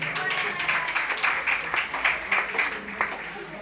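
Audience applause at a comedy show, a dense wash of clapping with repeated swells, moderately loud and close, with voices mixed in.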